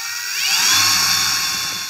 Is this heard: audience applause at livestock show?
no